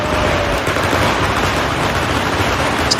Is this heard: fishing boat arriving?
no